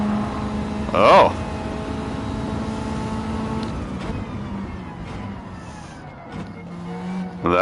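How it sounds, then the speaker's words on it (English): A car in a racing video game brakes hard, its engine tone and tire squeal sweeping down before a sustained lower whine. Voices talk over it. "That was a lot of brakes."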